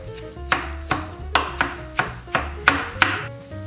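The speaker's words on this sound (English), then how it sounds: "You're just going to pick all the leaves off and then roughly chop the leaves" A knife chops fresh parsley leaves on a cutting board in a steady rhythm of about eight sharp, close thuds spaced roughly half a second apart, with no talking.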